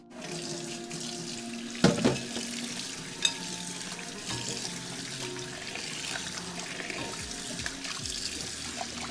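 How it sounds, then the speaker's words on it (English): Chicken wings are rinsed under a running kitchen tap, with a steady, close rush of water into the sink and a few clunks and splashes as they are handled. "I'm going to go ahead and rinse these off real quick."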